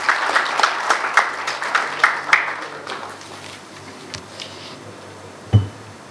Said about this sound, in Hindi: मैं आप तमाम लोगों की भरपूर तालियों में लई खान साहब को बुलाना चाहता हूँ।